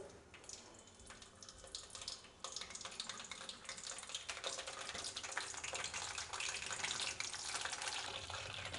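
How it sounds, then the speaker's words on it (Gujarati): Brinjals dropped one by one into hot oil for a Swaminarayan temple-style curry set up a steady, hissing sizzle that grows louder and denser after a few seconds and continues without pause, with no talking. "તેલ ગરમ થઈ ગયું છે, તો એક એક કરીને રીંગણ આપણે તેલમાં મૂકી દઈશું"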